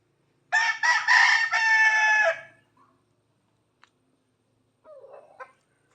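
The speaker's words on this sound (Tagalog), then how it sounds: "Manok." A rooster crows loudly and nearby in a backyard for about two seconds, followed by quiet and a few soft clucks from chickens.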